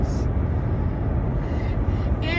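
Steady low rumble of road noise fills the cab of a moving truck on the way to a Nashville Predators hockey game, broadband and constant with faint high hiss; speech-like murmur sits within it.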